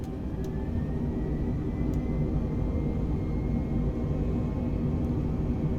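Steady, loud airplane engine drone at full throttle during a takeoff roll in Microsoft Flight Simulator, a continuous low rumbling roar with faint clicks.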